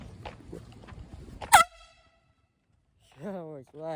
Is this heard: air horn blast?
yes